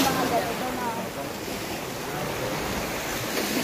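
Ocean waves wash against a breakwater on a typhoon-hit seaside shore, a steady, loud roar of surf with wind buffeting the microphone and a voice faintly under it.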